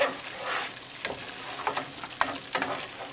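Pacific cod and potato curry is stirred in a pan, quiet scraping strokes at an uneven pace over a gentle steady sizzle, heard close with no speech.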